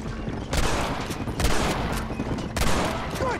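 Three loud, booming gunshots from Red Dead Redemption ring out one after another, each with a sharp crack and lingering echo over a continuous background of game ambience.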